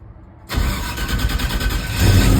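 An LS-swapped Ford F100 pickup fires up abruptly after a quiet stretch, then settles into a loud, steady idle with a rough, rumbling pulse that swells slightly near the end.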